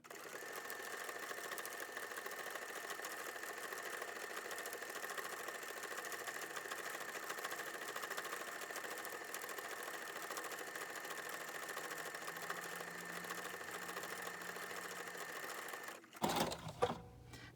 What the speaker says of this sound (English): we're going to sew it to our fabric